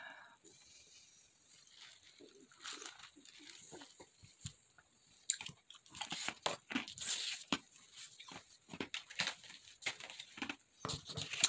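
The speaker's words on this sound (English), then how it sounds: "if I get a drink and you hear me crunching ice, just ignore me." Ice from a drink is crunched between the teeth in a quiet room, a run of close, irregular crackling bites that grows denser and louder toward the end.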